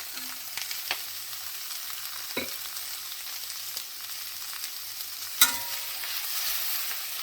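Pak choy and capsicum stir-frying for Thai-style tofu vegan fried rice, a continuous close sizzle broken by the clacks of spatula strokes and a sharp scrape near the end.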